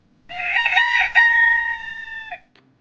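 A rooster crows once, a loud, close, drawn-out cock-a-doodle-doo lasting about two seconds, rising then trailing off, with quiet surroundings before and after and no clucking evident.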